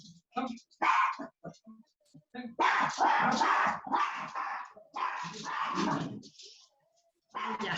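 A dog indoors breaks into a fit of barking, loud close yelps and whimpering yips in bursts with short gaps between.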